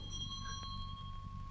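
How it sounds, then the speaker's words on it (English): A small bell rings for a servant to answer in a 1940 period drama interior: a thin, sustained metallic tone with a brief struck accent, faint over a low background hum. "Answer the bell."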